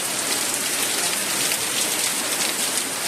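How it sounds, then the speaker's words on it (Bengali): Heavy rain pours down steadily, a dense, continuous hiss of drops drumming on surfaces with no breaks, close and loud throughout. "কি বৃষ্টি নেমেছে, দেখো।"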